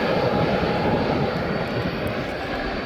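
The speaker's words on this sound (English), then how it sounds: "She's now moving down to the runway now. It's a Boeing 747-400 freighter." A Boeing 747-400 freighter taxiing toward the runway at East Midlands Airport, its jet engines giving a steady, loud, broad whine and roar throughout.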